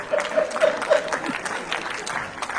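Audience in a hall at a Hindi comedy poetry event breaks into applause, a dense patter of many hands rising and then thinning out, with a voice talking over it.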